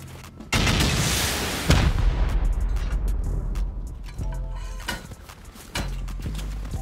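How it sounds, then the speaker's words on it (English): Rocket fire blasting a turret in a base-raiding survival video game, a loud sustained explosive roar followed by rumbling impacts, clattering debris and scattered sharp bangs. "Let's rocket this turret down."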